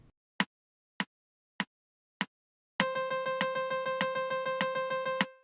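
Four sharp count-in clicks, then a saxophone sounds a steady run of evenly tongued semiquaver notes on one pitch, close and clear, with no talking.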